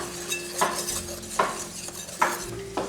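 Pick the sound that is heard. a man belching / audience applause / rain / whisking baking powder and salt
whisking baking powder and salt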